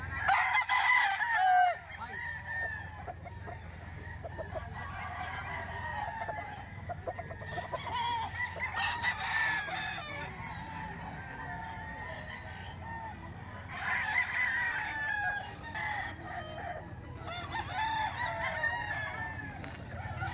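A rooster crows several times at intervals, moderately distant, with clucking chickens and faint murmuring voices in the background.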